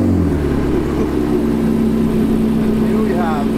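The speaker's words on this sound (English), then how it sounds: "Here we have the Porsche 918 startup" A Porsche 918 hypercar fires up into a loud, steady droning idle close by, with a steady engine tone holding throughout and a brief rising whir near the end; a voice speaks over it.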